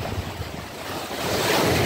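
Rough sea on a fishing trip: loud surf and gusting wind buffet the microphone in a steady roar that swells toward the end, with no voices.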